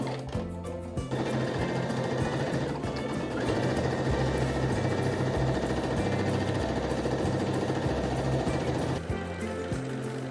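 A sewing machine stitches the side seams of a halter neck tie dress lining with a 1 cm seam allowance, running in one steady, fast mechanical whir for about eight seconds, starting and stopping abruptly.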